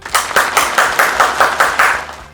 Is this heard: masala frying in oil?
no